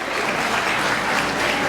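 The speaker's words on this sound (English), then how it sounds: "Yes, that deserves applause" A crowd at an academic awards dinner claps in a dense, steady burst of applause, close and loud, with no speech on top.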